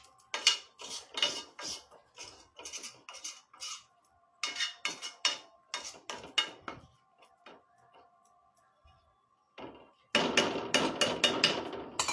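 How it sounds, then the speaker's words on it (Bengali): A spoon stirs milk kheer made with powdered milk in a pot, giving quick, rhythmic metallic clinks and scrapes in bursts separated by short pauses, with a denser run of scraping at the end. "ক্রমাগত নাড়াতে থাকবেন, তাহলে গুঁড়ো দুধটা ভালো মিশে যাবে।"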